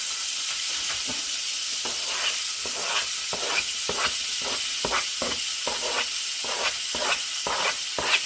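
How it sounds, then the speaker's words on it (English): Bell pepper sautés in a hot pan with a steady bright sizzle, broken by a run of rhythmic scraping stirs as the pieces are tossed, close and continuous with nobody talking. "So what we're going to do is we're going to saute this."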